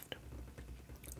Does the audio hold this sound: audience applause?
no